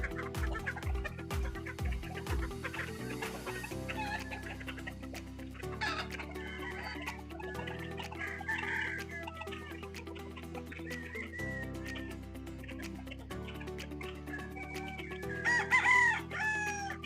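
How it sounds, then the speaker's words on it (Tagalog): Chickens cluck and a rooster crows repeatedly at a chicken farm, the calls layered over a steady low background hum, with a louder burst of clucking near the end. "Ito dulo ang mga manok."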